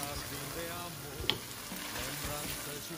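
Onions hitting hot oil that has been cooked down with Goan recheado masala, a steady close sizzle and fry with a brief utensil clink partway through and no voice.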